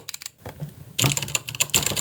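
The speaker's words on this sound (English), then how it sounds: "so we can type on the keyboard and stuff is showing up" Typing on a newly plugged-in computer keyboard with a revived old-style feature, a quiet burst of keystrokes followed by a denser, louder run of clicking keys, close up with no voices.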